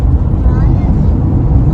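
Heavy road traffic near a beach in America, heard from inside a car as a steady low rumble and engine drone, continuous and close, for a brief moment.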